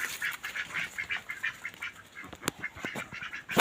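Ducks on a duck farm quack repeatedly in a busy, overlapping chorus, with a few sharper, louder calls standing out near the microphone and others farther back.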